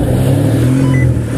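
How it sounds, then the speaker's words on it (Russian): A Ford Mondeo's engine revs hard at a standing start, launched from two pedals for a 402 m drag run: a loud, steady mid-range engine roar held close and continuous throughout. "С двух педалей наш Mondeo стартует сразу же."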